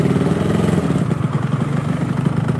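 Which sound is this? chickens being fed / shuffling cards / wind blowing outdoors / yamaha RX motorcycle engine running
yamaha RX motorcycle engine running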